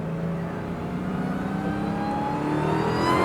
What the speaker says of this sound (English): just giving a little bit of throttle in first gear, you're already roasting up those tires